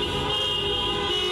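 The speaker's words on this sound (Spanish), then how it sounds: "lo que tiene que ver con el bocinazo" Car horns honking together during a street protest in central Rafaela, overlapping sustained blasts forming a dense, continuous blare with traffic rumble beneath.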